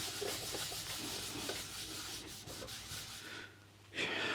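A cloth rubs coarse automotive cut-and-polish by hand over the sanded wooden cabinet of a 1955 EKCO U245 valve radio, giving close, faint, rhythmic scrubbing strokes that briefly pause before resuming.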